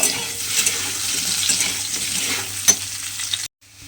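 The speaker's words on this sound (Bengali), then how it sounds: "ওলগুলো তেলের মধ্যে দিয়ে একটু লাল করে ভেজে নেব" Pieces of elephant foot yam sizzle and fry in hot oil up close, a steady crackling hiss with a brief clatter near the end before it cuts off.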